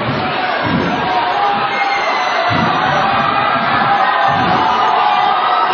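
Large crowd at a government ceremony for Chief Minister Mamata Banerjee, with a dense, steady roar of applause and cheering held at an even loud level throughout.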